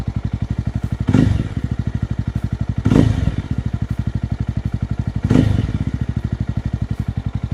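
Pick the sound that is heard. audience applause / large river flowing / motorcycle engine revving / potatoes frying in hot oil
motorcycle engine revving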